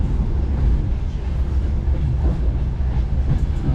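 A single-car passenger train hauled by a 2TE10U diesel locomotive on the Samara–Buzuluk line, heard from inside as a loud, continuous low rumble with rhythmic wheel clatter throughout.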